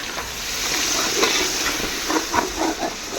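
Tomato paste hits browned onions in a hot pan, raising a broad, hissing sizzle that swells and flutters with a few stirring scrapes, fairly loud and continuous.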